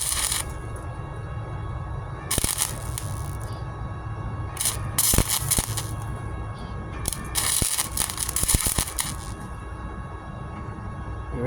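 MIG welding bursts on older metal during a wheel arch repair on a 1998 Ford Ranger, several crackling, buzzing runs of a few seconds each, separated by short pauses and heard up close, with no speech.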